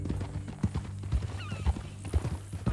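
Horse hooves clip-clop in Red Dead Redemption 2, a steady run of distinct thuds about two or three per second, set against a low musical score.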